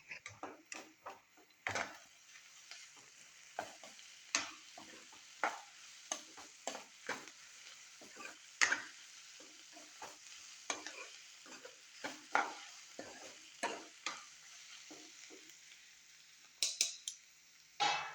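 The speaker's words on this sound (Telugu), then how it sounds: "వేసేసుకున్నాం అల్లం వెల్లుల్లి పేస్ట్. చేసి కలుపుదాం కొంచెం." Ginger garlic paste being stirred into frying chicken curry in a pan: a long run of irregular scraping strokes from a spoon against the pan, close and steady, over a soft sizzle with no talk.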